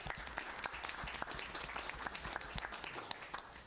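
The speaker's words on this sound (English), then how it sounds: "So we can give her a round of applause, even though she's not here." Faint, steady applause from attendees at a school board meeting, many hands clapping in a dense patter heard at a distance, quiet and continuous without talk.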